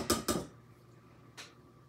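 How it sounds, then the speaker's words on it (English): A pastry blender rocks in a mixing bowl, cutting butter into biscuit dough, giving two quick scraping clinks followed by a third after a short pause, close and fairly soft. "I'm just turning the bowl and I'm just rocking down on the pastry blender to get that butter incorporated"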